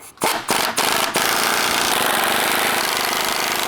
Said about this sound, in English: go ahead and take a 9/16 wrench and socket and tighten each one up